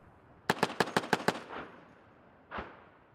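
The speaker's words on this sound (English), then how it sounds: "they too are attacked, returning fire with their remotely operated 50 calibre guns. With mortars peppering the imaginary enemy buildings" A remotely operated .50 calibre gun fires a rapid burst of six sharp shots during a military desert training exercise, then a single distant mortar-like thump follows after a short pause, fairly quiet with no talk.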